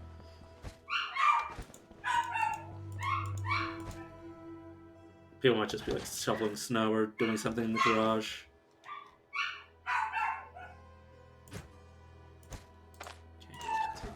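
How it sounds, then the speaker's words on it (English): A dog in the game Stoneshard, upset at being left behind, yips and barks in several short bursts, mixed with someone talking over quiet background music. "My dog is now upset that they have left him behind."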